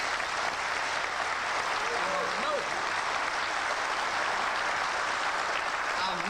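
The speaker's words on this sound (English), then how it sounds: "I think they're worthy of your applause tonight" Steady, even applause from an evening lecture audience, a continuous wash of clapping held at a constant level from start to finish, with a faint voice briefly audible.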